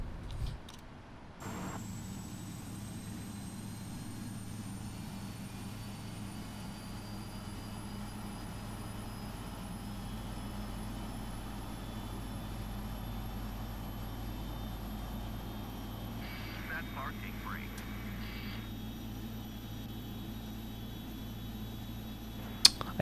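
Boeing 777 jet engine spooling up in a flight simulator: a steady low turbine rumble under a thin, slowly rising whine, with a few faint clicks and a brief chirp toward the end.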